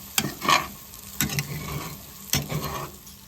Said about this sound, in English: I hear bacon sizzling.